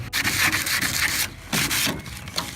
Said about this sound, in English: We are just sanding down around the edge now to make sure the sealant and the bonder will have a good grip onto the surface.